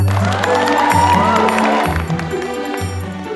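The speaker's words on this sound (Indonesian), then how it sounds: "Ya, tepuk tangan yang sangat meriah." A crowd at a children's performance show cheers and claps loudly and close, with excited shouting and whoops over a steady low hum, gradually easing off.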